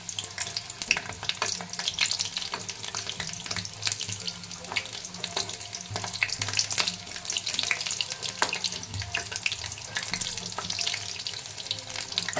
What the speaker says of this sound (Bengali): এবার আমি এটা কড়াই দেবো। তেলটা গরম হয়ে গেছে